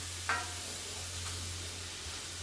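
Ground meat browning in a pan for homemade spaghetti sauce, a steady soft sizzle with a brief scrape of stirring near the start, close and alone.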